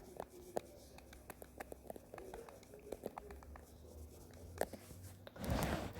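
Pen scratching on paper in short, irregular strokes, quiet and close, with a soft rustle and thump near the end; no talk.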